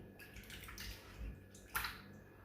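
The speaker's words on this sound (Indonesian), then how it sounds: "Kita bersihkan lagi. Diaduk-aduk sampai lendirnya terpisah." Aloe vera gel being washed and stirred by hand in a container of water, soft sloshing and dripping with a brief splash near the end, quiet and close with no talking.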